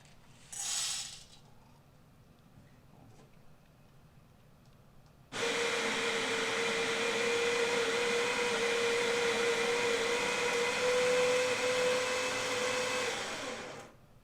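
A coffee grinder grinds espresso roast beans, a steady, loud whirring drone that starts abruptly after a brief quiet stretch with a short sound and carries on evenly to the end.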